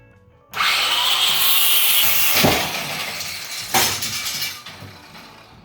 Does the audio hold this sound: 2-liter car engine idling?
no